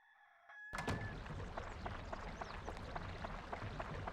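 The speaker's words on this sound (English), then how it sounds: "These rooster noises are like negative ASMR." Rooster crowing in the Dark Cloud video game, a repeated rhythmic fowl call with clucking-like pulses, loud and continuous after a brief quiet opening, with no talk.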